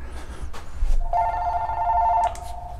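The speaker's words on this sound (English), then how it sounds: "answering the phone" A telephone rings in a motorcycle repair shop with one steady electronic trill lasting about a second, close and fairly loud, after faint background shop noise and no talk.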